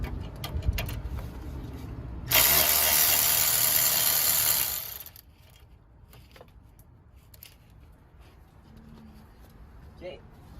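A ratchet wrench loosens the nut on the AC high pressure line of a 2002-06 Hyundai Santa Fe, giving a loud, close burst of fast clicking for a few seconds before quieter handling noises, with someone talking around it.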